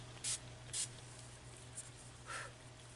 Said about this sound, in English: it's just like a little spray-on primer